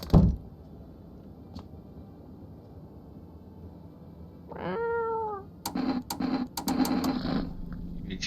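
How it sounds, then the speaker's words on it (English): Cat meowing in the video game No, I'm Not a Human: one drawn-out, close meow after a long quiet stretch, followed by a series of short clicking and rattling sounds. "reach out and pet the cat."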